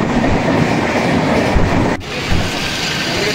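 Loud, close rumble of a train moving on the tracks, with a steady clatter and a brief sharp click partway through.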